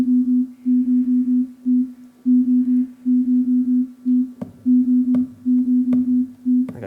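Short electronic tones pulse in an uneven, off-beat pattern, bunched groups separated by gaps, with a few sharp clicks near the end.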